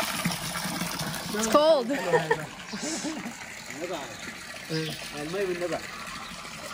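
Cold water of a small mountain-fed river in Lebanon rushes and splashes steadily in the background, largely under close conversation between several people.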